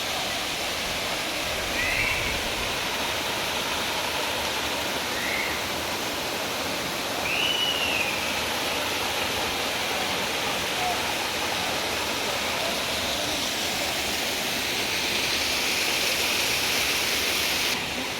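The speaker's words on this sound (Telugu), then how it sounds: "ఇదే వాటర్ ఫాల్." Katika waterfall in Araku roars as a steady, dense rush of falling water heard up close, continuous and loud, with faint voices mixed in.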